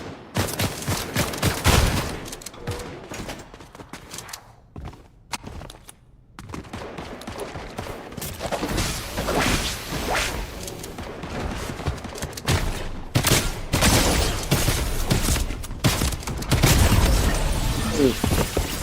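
Gunshots striking the player in The Simpsons: Hit & Run, loud dense bursts of rapid gunfire with repeated cracks and short pauses, mixed with impact thuds and brief speech.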